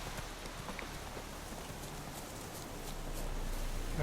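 Horse hooves clip-clop steadily in The Witcher 3 video game, a soft continuous patter of footfalls over a noisy ambient bed that grows slightly louder toward the end.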